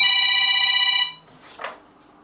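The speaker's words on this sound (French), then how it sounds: "Et j'ai un coup de téléphone forcément." A telephone rings loud and close in a gunsmith's workshop, one sustained electronic trill that cuts off after about a second, followed by a brief soft rustle.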